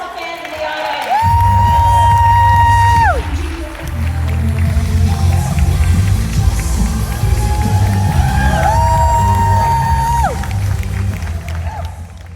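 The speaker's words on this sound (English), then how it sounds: "A big round of applause." A festival crowd at a book event panel cheers loudly, with long rising whoops and shouts over a broad roar of applause and noise.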